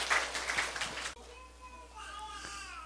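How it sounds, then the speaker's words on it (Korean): A church congregation applauds during a Korean Sunday sermon in Seoul. There is about a second of dense clapping, then it fades out under voices. "우리 하나님께 박수 올려드려요"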